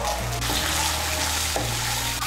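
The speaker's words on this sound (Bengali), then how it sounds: "গুঁড়ো মশলাগুলোকে ভালো করে মিশিয়ে নেব, তেলের সঙ্গে মিশিয়ে নিয়েছি" Ground coriander and chili powder are stirred and fried in hot oil for vegetarian chickpea ghugni, giving a steady, dense sizzle with light scraping from the stirring.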